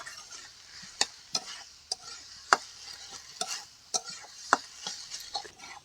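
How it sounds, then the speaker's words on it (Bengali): Ginger-garlic paste fries with potatoes in oil. A spatula stirs the pan, giving a dozen or so sharp scrapes and clinks over a faint, steady sizzle. "এবার ভালো করে ভেজে নেব যাতে আদা রসুনের কাঁচা গন্ধটা চলে যায়।"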